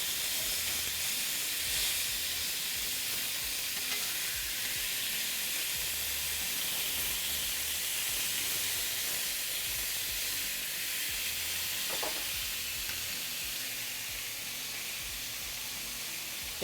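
Pork chops searing in a hot pan for a Turkish-style dish, giving a steady, loud, even hiss of sizzling fat that runs unbroken throughout with no pauses.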